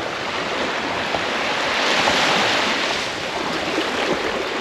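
Ocean waves wash onto the shore in a broad, hissing rush that swells louder near the middle and then eases back, with some wind noise mixed in.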